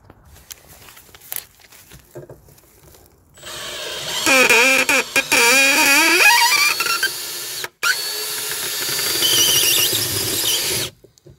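A power drill fitted with a screw extractor bites into a broken screw in a garden bench, whining and squealing with rising, wavering pitch in loud bursts, interrupted by one brief pause before the motor runs on steadily.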